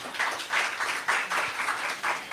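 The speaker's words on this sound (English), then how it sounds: "A round of applause for them" An indoor audience at a business conference claps for a few seconds, a dense, moderately loud patter of many hands that rises and falls in uneven waves.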